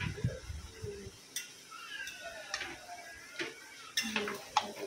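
A spoon stirs mutton in a cooking pot, producing quiet scattered scrapes and sharp metallic taps against the pot at irregular intervals, faint and close, with a soft low background and no speech.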